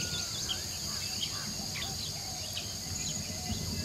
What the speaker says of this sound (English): Insects, the variety of their forms is staggering.